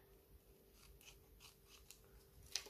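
Scissors snip through paper for a homemade birthday card, quiet close cuts in a loose irregular rhythm with one sharper snip near the end.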